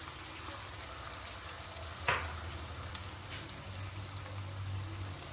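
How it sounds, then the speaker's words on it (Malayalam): Small onions (shallots) fry in oil for puli inchi, a soft, steady sizzle with one sharp clack partway through and no voices. "ഈ ചെറിയ ഉള്ളി ഇടുവാണ് ഇതെല്ലാം നമുക്ക് നല്ലപോലെ ഒന്ന് മൂത്ത് എടുക്കണം"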